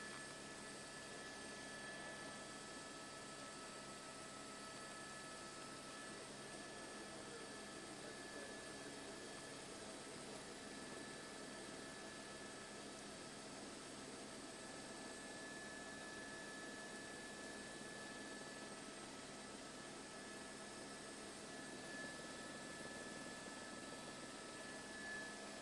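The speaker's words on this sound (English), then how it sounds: "that helicopter in frame there" A Los Angeles County Sheriff's helicopter passes low overhead, a steady, quiet drone of rotor and turbine that holds at a constant level with no talk.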